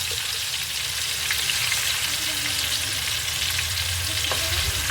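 Masala spices frying in leftover oil in a pan on a home gas stove give a steady, close crackling sizzle throughout, with occasional stirring scrapes and no talking.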